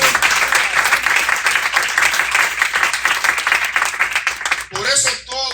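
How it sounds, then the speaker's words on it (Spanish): A church congregation claps in a dense, sustained burst of applause during a sermon, loud and close, then breaks off as a voice speaks briefly at the end. "Denle un aplauso"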